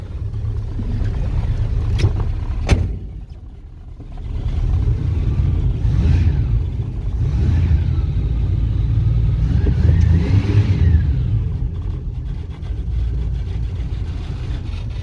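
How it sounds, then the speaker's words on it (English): Dodge Ramcharger engine warming up in freezing cold outdoors, a steady loud idle with a slightly lopey cam note, swelling into a couple of revs before settling back, no talking. "Ram Charger still running strong. And let's go see if she's warming up."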